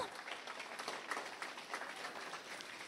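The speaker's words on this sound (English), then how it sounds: "Give these ladies a round of applause" Faint applause for the contestants at the 2025 Fayette County Fair Queen Contest, a dense, steady patter of many hands clapping at a distance, continuing evenly throughout.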